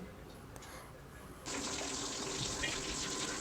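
A quiet room gives way to a sudden steady splash of whey being poured off strained curds while making rasgulla, a continuous close rushing gush that keeps going.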